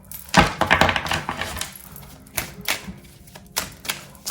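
Oracle cards handled and shuffled at close range, a quick burst of crisp riffling clicks followed by scattered softer taps and slides of cards, with no talking.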